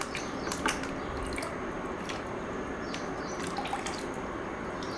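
Water rinsing a small bottle cap, a continuous close splashing trickle with scattered drips and clicks throughout, no voices.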